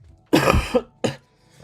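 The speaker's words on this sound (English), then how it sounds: "I know I just coughed then" Two harsh coughs in quick succession, close and loud, the first longer and throaty, the second short.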